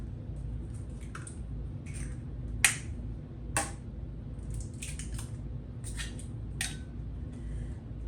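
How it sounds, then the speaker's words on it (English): Two eggs being beaten into pumpkin bread batter, giving a string of light, irregular clicks and wet taps from a utensil against the bowl over a low steady hum. "And then we beat in 2 eggs."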